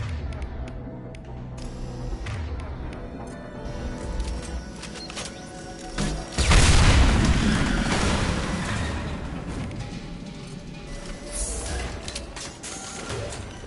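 Fuel tanks blow up in the Mass Effect 2 game on PS5, a heavy boom that erupts midway through busy gunfire and clatter, then rumbles and slowly fades.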